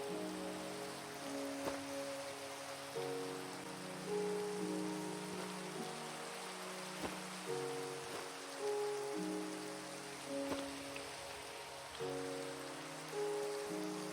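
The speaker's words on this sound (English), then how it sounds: "We'll just let the rain hit our heads tonight." Rain patters steadily on outdoor campers at night, a continuous wash of drops heard alone beneath soft recurring tonal music, with no talking.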